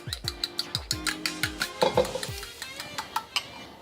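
A whisk or fork rhythmically beats eggs against a pan while they are lightly scrambled for chicken fried rice, giving a steady series of close, sharp taps and scrapes with a faint sizzle underneath, and no one speaking.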